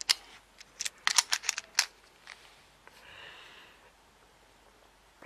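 A Nintendo Switch game card case is snapped and clicked open with a quick burst of sharp plastic clicks and rattles close up, followed by a soft rustle, with no talking.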